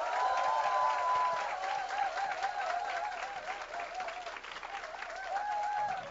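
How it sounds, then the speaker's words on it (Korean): Studio audience applause at a seminar, a steady wash of clapping that continues at an even level throughout, fairly distant and faint with no talking over it. "방청객 박수 부탁드리겠습니다."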